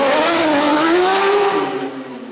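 Race car engine at a motor day in Vikersund, revving up in one steady rising pull, loud and close, then easing off at the end with no voices over it.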